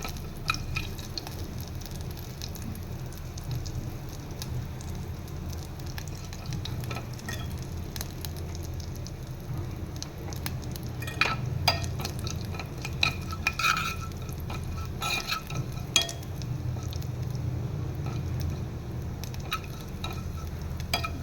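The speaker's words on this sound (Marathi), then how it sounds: "जसं जिरं फुटायला लागेल तसं मी याच्यामध्ये आलं मिरचीची पेस्ट टाकून घेणार आहे." Cumin seeds frying and popping in hot oil in a pan, a continuous sizzle dotted with sharp crackles and spits that grow busier toward the end, close and without speech.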